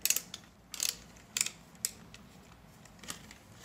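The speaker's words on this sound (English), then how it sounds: "So there's a ratcheting headset." The ratcheting headband of a Trimble XR10 HoloLens 2 headset is adjusted, giving several sharp, close plastic clicks in quick irregular bursts over quiet background.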